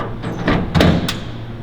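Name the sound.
dust collector filter door closing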